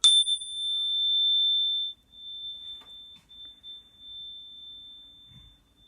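A steady, piercing high-pitched pure tone starts loud and slowly fades away, with only faint scattered noise beneath it and no speech.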